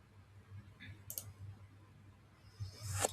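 A single mouse click on a computer, faint and close, in an otherwise quiet room with low hum.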